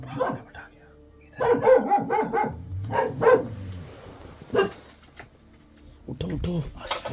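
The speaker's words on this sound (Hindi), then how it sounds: "यार कुत्ते भौंक रहे हैं, हम कहीं मजे लेंगे।" Several dogs bark in bursts during a night stay in the Jim Corbett jungle, fairly near, with people talking in between and over them.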